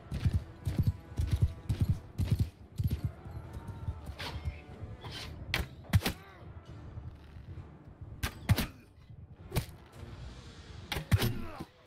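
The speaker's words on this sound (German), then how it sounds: "Da ist sogar einer auf dem Pferd unterwegs." Horse hooves clip-clop in Mount and Blade II: Bannerlord during a mountain ambush, sharp irregular thuds mixed with combat clatter and impacts, fairly close and loud, with someone talking in German over the action.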